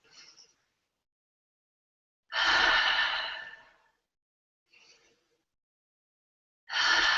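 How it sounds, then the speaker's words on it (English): Slow deep breaths in through the nose and out through the mouth, each long whooshing exhale loud and close, separated by quiet pauses, with softer inhales between. "breathing in through the nose and out through the mouth"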